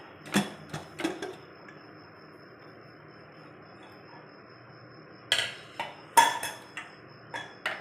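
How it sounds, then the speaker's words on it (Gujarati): A pressure cooker lid is opened after cooking toor dal khichdi, giving a few sharp metallic clicks and clanks, first in a quick cluster and then again after a quiet pause, fairly close. "હવે આપણે કુકરને ખોલી લઈશું"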